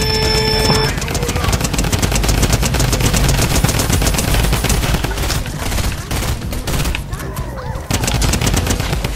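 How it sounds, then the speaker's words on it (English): Rapid automatic fire from a drum gun in the Fortnite video game, a dense, loud, continuous rattle of shots running almost the whole stretch, with brief game tones at the start and faint talk underneath. "there's like a regular drum gun, but it still works"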